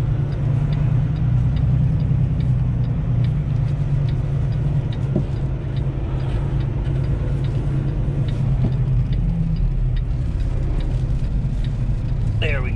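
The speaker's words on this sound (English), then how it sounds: "We're going to have to pull up to the left to get my trailer where I need it to go." A semi truck with a trailer pulls forward and to the left to set the trailer in position, a low, constant diesel rumble heard from close by, with faint clicks and rattles over it and no clear talking.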